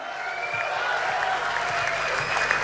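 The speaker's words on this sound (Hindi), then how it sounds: "जोरदार तालियों से इस्तकबाल कीजिए हमारे आपके महबूब जनाबे तहजीब हाफिज साहब" Applause welcoming poet Tehzeeb Hafi at a Dubai mushaira, a dense, steady wash of clapping from a large audience that holds evenly throughout.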